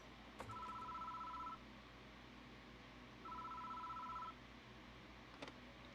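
A telephone rings at a phone booth in the horror game Death Mark, two faint, distant electronic trill bursts about a second long each, separated by a pause, over a low ambient hum.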